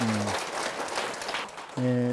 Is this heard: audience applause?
yes